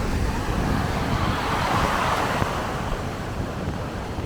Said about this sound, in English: this is a better angle to just take in how much water really drops from this waterfall